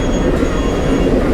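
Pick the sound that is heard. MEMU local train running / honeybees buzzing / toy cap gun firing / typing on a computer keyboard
MEMU local train running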